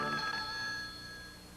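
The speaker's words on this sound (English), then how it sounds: "Pick up your phone and give them a ring." Telephone bell ringing in a 1970s broadcast commercial, a bright sustained ring that fades slightly, heard alone without talk.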